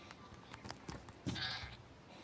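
A goat kid bleats once in a phone video game, a short, faint electronic bleat set against quiet game background sounds.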